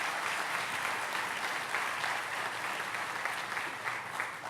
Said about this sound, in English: please give all of our elected officials and dignitaries a round of applause